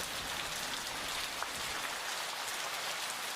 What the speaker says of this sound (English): Strong rains bucketed the island